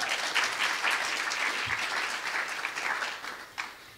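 A Sunday church congregation applauding, a dense, even wash of many hands clapping at once, sustained at moderate volume and easing slightly near the end.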